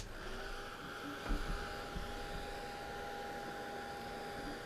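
A hair dryer blowing steadily to dry asphaltum paint on an artwork, its even whir with a faint tonal whine running throughout at low volume, briefly joined by soft handling bumps.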